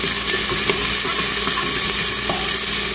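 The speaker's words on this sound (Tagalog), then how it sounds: "Maglagay tayo ng garlic tsaka onion. Haluin natin." Garlic and onion sizzling in a hot pan while being stirred, with scraping clicks over a steady frying hiss, close and moderately loud.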